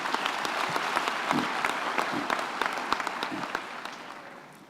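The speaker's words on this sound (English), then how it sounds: "let's give them a round of applause." Graduation ceremony audience breaks into sustained applause, dense clapping from a large crowd filling the hall and slowly tapering toward the end, with no speech over it.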